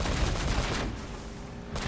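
Gunfire in the video game Uncharted: Drake's Fortune, a short burst of rapid loud shots lasting under a second, followed by a fading echo and a final faint crack.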